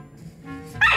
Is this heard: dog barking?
yes